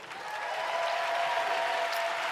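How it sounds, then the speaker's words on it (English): Steady applause from a sizable crowd at a state Democratic party convention, swelling quickly and holding at an even, sustained level throughout. "Let's give you a round of applause."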